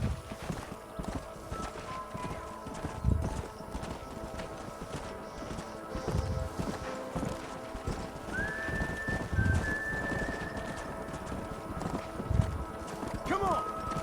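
Horses clip-clop in the Red Dead Redemption video game, repeated hoofbeats moving at a steady pace amid ambient game sounds, with a brief whinny near the end and voices talking over parts of it.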